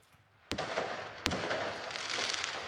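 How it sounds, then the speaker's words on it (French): Fireworks burst around a crowd of Paris Saint-Germain supporters celebrating the club's Champions League win in Paris, with two sharp loud bangs over a dense, continuous crackle and roar of nearby explosions. "un festival littéralement de feux d'artifice qui nous entoure"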